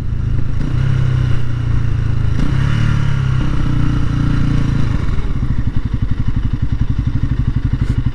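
A 2019 Genuine G400C cafe racer motorcycle is ridden up close, its engine revving through a few pitch swells before settling into a loud, rapid, thumping putter, with no talk.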